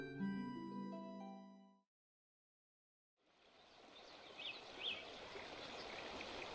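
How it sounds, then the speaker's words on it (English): Morning birdsong in the video game Snowbreak: a few faint, high chirps sit over a steady, trickling outdoor ambience after a short stretch of tonal music and a pause of silence. "The next morning, birdsong drifted through my window."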